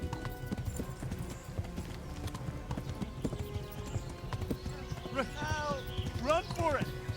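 A galloping horse in Kingdom Come: Deliverance pounds out a steady clip-clop of hooves, joined near the end by a couple of distinct whinnies, at moderate volume.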